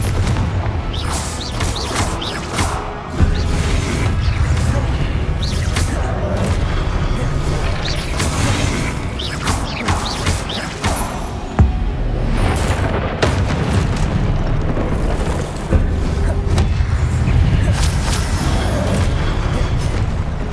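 Blasting-curse explosions in Hogwarts Legacy, with deep booms and crashing impacts going on throughout a loud, busy magical fight and sharp bursts standing out every few seconds.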